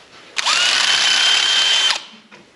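A power drill boring out holes in a throttle body for a Tundra intake swap: one steady, loud high whine lasting about a second and a half, revving up and winding down, close by with no talk.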